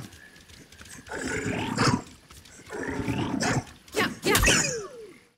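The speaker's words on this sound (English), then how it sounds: "and layered with a tiger growl and frog sounds." A video game monster's vocalization built from a heavily processed human voice layered with a tiger growl and frog sounds, heard as three or four close, snarling roars and growls separated by short pauses, ending in a sharp rising screech.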